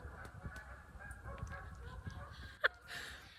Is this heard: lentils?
no